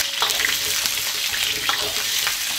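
Pork trotters frying with ginger in a hot oiled wok, a loud steady sizzle with scraping stir noises, close and without speech.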